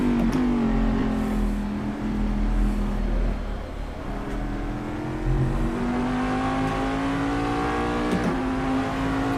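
A 600-horsepower Corvette DP race car in the Assetto Corsa driving game accelerates steadily, its engine note climbing in pitch through the gears with a loud, continuous drone and brief dips at shifts.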